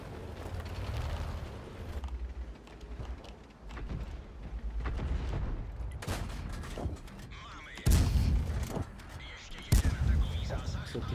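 Tank cannons fire in World of Tanks battle gameplay, including shots at a Schwarzpanzer: a rumbling, noisy battlefield bed broken by two loud, sharp blasts near the end.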